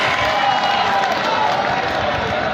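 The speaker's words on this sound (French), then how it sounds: "Merci Organica, on l'applaudit bien fort s'il vous plaît." An audience at a Côte d'Ivoire comedy show breaks into sustained applause and cheering, a dense wash of clapping and crowd noise that holds steady and fairly loud throughout.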